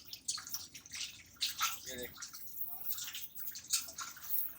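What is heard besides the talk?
water flowing from a motor-driven water pump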